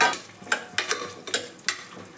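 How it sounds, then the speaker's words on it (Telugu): Onion and green chillies frying in a pan for chicken biryani, a steady sizzle broken by several sharp stirring scrapes at a regular pace, close and fairly loud. "ఉల్లిపాయ, పచ్చిమిర్చి బాగా ఎర్రగా వేపుకోవాలండి."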